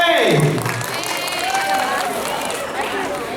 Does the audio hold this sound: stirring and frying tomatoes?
no